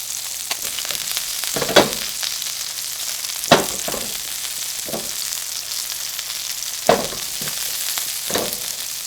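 Butter frying in a hot pan while brown butter is being made, a steady broadband sizzle with a few sharper spits and crackles at intervals, close and moderately loud with no talking.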